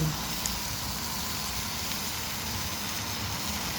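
Light rain falls outdoors beside a house while food is being grilled, giving a steady, even hiss of drizzle throughout with no voices.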